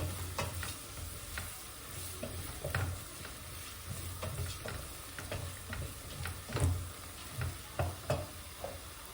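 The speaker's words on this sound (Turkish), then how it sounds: "unumuzu yine tekrar kavurmaya başlıyorum" Flour for lentil soup is roasted in a pan, stirred with repeated scraping strokes and light clicks of the utensil over a quiet dry sizzle, close and soft, with no talking.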